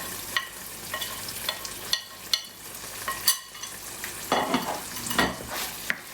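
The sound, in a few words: sauteing powdered masalas into puree in a pan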